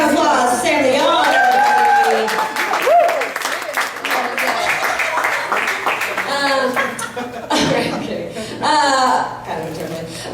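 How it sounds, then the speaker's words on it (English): Crowd applause at a storytelling open-mic show after a singer's new song, clapping mixed with chuckles from the audience while the host keeps talking over it. "let's give a round of applause to Sam the Yard."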